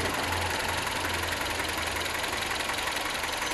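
A Kia cee'd 1.4 SW car engine idles quietly and evenly, a close, steady mechanical hum with a faint low pulsing and no voices over it.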